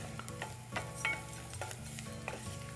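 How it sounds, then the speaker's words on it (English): Rice toasting in a pan for a chanterelle arroz is stirred continuously, making a soft sizzle with scraping strokes and light utensil taps, close but quiet. "You don't want to burn it, so keep stirring it."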